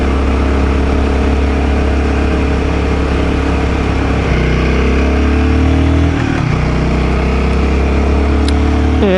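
A Royal Enfield Guerrilla 450 motorcycle engine hums steadily while riding through a small town on a weekend, a continuous mid-pitched drone with wind rush and slight shifts in tone partway through.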